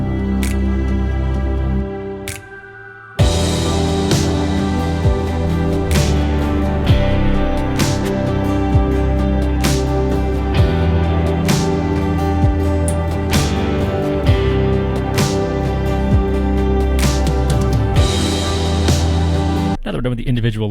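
A sad pop song in full mix: drum loop with hi-hats, percussion, snaps, punches and layered snares over pads, bass and a melody. It plays loud and dense, briefly drops out near the start, then returns steadily with no talking.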